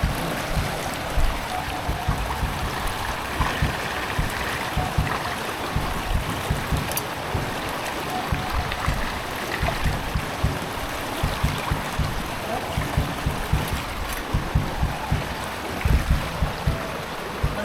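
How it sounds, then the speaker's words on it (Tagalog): Waist-deep floodwater rushes and churns in a steady rough wash, with splashing and gurgling close by and no one talking. "mataas na masyado yung baha, tubig"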